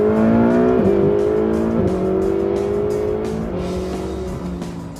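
Ferrari 488 GTB with a 3.9-liter twin-turbocharged V8 accelerating hard, a loud sustained engine roar that climbs in pitch through several quick gear shifts before easing slightly, with no talking.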